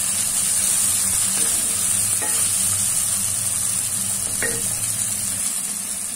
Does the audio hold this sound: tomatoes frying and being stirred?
yes